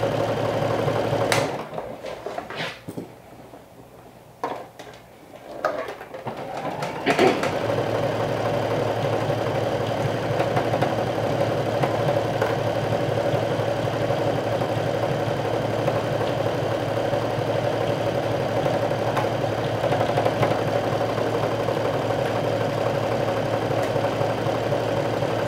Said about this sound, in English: give your machine a chance to adjust to the new thickness